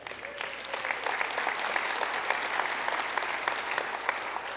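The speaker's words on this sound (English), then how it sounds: "you deserve a round of applause for that" Audience applause at a Rotary International Assembly session on polio eradication, sustained crisp clapping from a sizeable crowd, steady and fairly even throughout with no voices over it.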